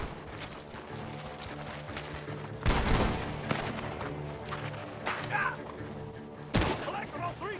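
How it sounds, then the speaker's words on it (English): Sharp gunshots ring out from a barn amid Red Dead Redemption 2 game sounds, including hoofbeats and voices, with a couple of loud blasts standing out over continuous background noise. "The gunshots are coming from that barn."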